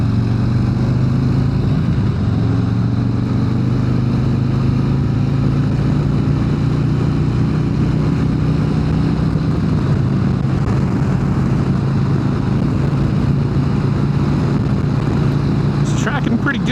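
A 120th Anniversary Edition Harley-Davidson Road Glide Special rolls on in third gear, a loud, deep, continuous engine drone with a rising throttle pitch, heard from the rider's position amid heavy wind rush.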